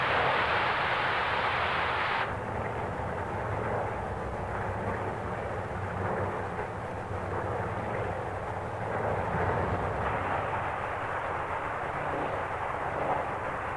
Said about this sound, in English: The fighter groups form behind their lead ships in 9 or 11 plane waves.